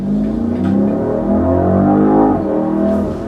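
A BMW Alpina B5 engine revs up hard and sustained, a deep throaty roar building as the car pulls away from a stop and accelerates, loud and close.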